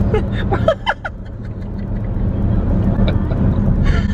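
Steady low engine rumble inside a moving car, continuous throughout, with brief laughter and voices near the start.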